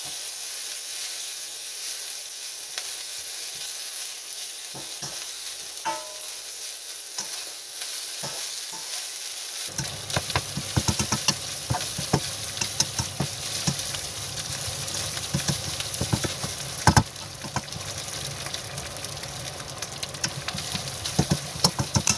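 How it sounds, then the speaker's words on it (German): Tofu sizzles and crackles in a hot pan, starting quiet and turning loud and steady partway through, with occasional stirring scrapes and no talking. "Dann den Tofu in die Pfanne."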